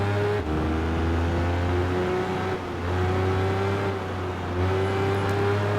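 Motorcycle engine in the Tourist Trophy racing game, a steady high-revving drone with layered tones that swell and dip slightly as the throttle changes, loud and continuous with no talking.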